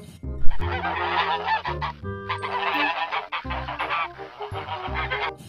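Geese honking loudly and repeatedly, with overlapping nasal calls from several birds close by, mixed with fowl-like clucks around a pond where a duckling fell in.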